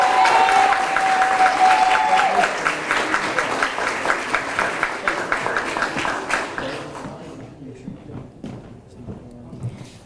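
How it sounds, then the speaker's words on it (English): An audience at a JROTC military ball applauds, with dense, steady clapping for about seven seconds that thins into scattered claps and fades out. "Let's give them another round of applause."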